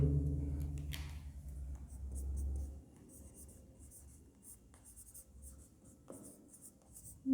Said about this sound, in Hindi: हम लोग नीचे से लिख लेते हैं भाई